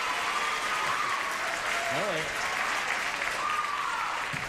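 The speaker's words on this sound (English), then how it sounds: "Just in appreciation for your kind and warm applause" A game show studio audience claps warmly and continuously throughout, a dense, even wash of applause with a host's voice speaking briefly over it.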